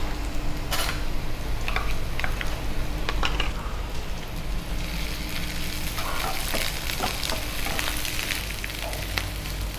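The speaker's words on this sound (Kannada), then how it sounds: "ಸ್ವಲ್ಪ ಫ್ರೈ ಆಗಲಿ ಗ್ರೀನ್ ಚಿಲ್ಲಿ ಆನಿಯನ್ ಎಲ್ಲ" Green chillies and onion frying in a pan, a continuous close sizzle with light ticks and stirring clinks throughout, no talk.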